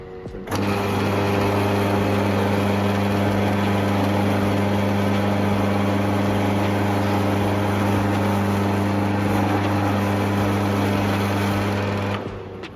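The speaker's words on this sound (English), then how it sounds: "you must adjust the position to drill at the point that you want to drill the sheet metal" A steady, loud motor whine with a strong low hum runs unbroken for about twelve seconds, starting and stopping abruptly, like a drill press cutting sheet metal.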